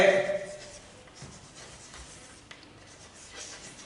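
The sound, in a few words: writing a solution during a lecture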